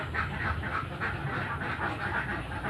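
Ducks being kept and raised quack in a steady, dense chorus at moderate loudness, a continuous flock noise with no voices over it.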